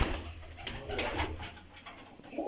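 Pigeons in a breeder loft coo softly and repeatedly at close range, with low rolling calls and some faint rustling behind them; no one talks.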